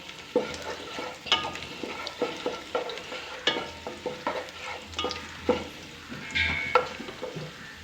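Food browning in a pan on a home stove, a close crackling sizzle broken by repeated scraping and stirring strokes in an uneven rhythm.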